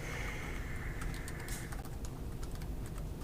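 Rapid typing on a computer keyboard during a programming exam review session: a steady run of light, close key clicks with a few sharper taps, and no voices.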